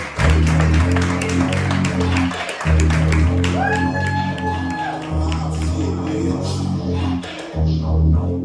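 Open-mic comedy audience clapping and cheering for a comic taking the stage, a dense wash of hand claps over a loud, thumping walk-on music bed with some crowd voices.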